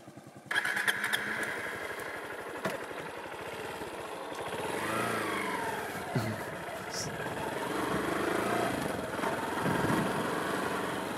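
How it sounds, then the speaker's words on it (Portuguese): A 2016 Honda Bros 160 motorcycle with electric start fires up and settles into a steady single-cylinder putter, its engine note rising and falling slightly as it idles and pulls away on a test ride. "vou dar um rolê aqui, um test drive com a Bros 160 2016 aqui pra vocês, partida elétrica"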